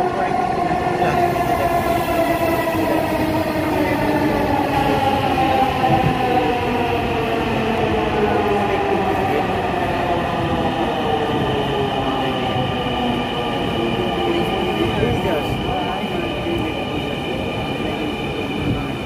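Metro train at a station, a loud rumbling run with rising and falling whines from the motors and wheels, continuous and close throughout, with no voices standing out.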